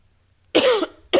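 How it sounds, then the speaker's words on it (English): A man gives two sharp, close coughs, a longer one followed by a short second, in an otherwise quiet room. "Excuse me for coughing in your ear."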